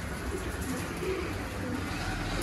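Pigeons cooing in a loft of breeding pairs kept for sale, soft low coos under a constant hiss of background noise, with no talking.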